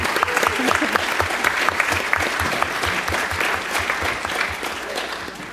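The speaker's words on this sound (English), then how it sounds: "So a big, huge round of applause for Hattie." A conference audience at a healthcare leadership summit applauds Hattie, a strong sustained round of clapping with rhythmic beats, and a voice speaking faintly beneath it.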